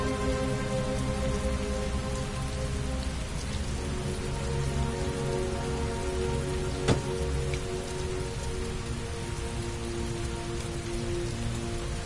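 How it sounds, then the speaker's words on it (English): Steady, dense rainfall pours down continuously in the PS4 video game Heavy Rain, with one brief sharp knock midway. "Heavy rain. It's been the same for weeks."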